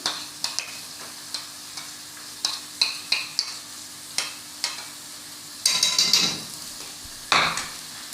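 Masala of yogurt, sesame, poppy seeds, fried onion and garlic added to a shab daig pot, with repeated clinks of a spoon against the pan, light sizzling and a brief scraping stir near the end, close and without talk.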